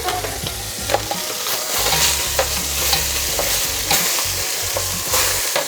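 Braciole searing in a pan, a constant close sizzle broken by several sharp clanks and scrapes of stirring, with no talking.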